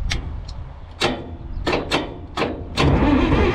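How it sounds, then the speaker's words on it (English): Caterpillar D6B bulldozer engine cranking over while its injection pump is stuck, heard up close as a series of sharp, repeated mechanical bursts followed by a louder sustained rumble near the end, with no talk. "Let's see it cranking here."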